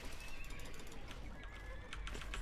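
Horses neigh and whinny from a strategy video game, several overlapping calls over a dense, busy game soundscape, fairly loud and continuous without speech.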